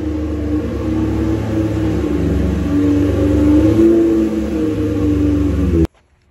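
A car engine rumbles loudly and steadily up close with rising and falling pitch as it is revved while being parked, then cuts off abruptly near the end; the car is modified with nitrous.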